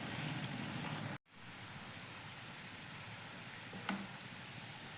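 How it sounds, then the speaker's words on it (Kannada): Chicken pieces frying in hot oil in a pan, turned until golden brown, give a steady, dense sizzle throughout, broken by one brief gap early on and a small clink near the end. "ಗೋಲ್ಡನ್ ಬ್ರೌನ್ ಬರೋ ತನಕ ನೀಟಾಗಿ ಫ್ರೈ ಮಾಡ್ಕೋಬೇಕು."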